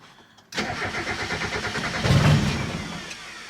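A Mazda Miata with its clutch bypassed, in neutral, cranks briefly after a quiet start and then fires up, settling into a loud, steady idle with a rising surge partway through.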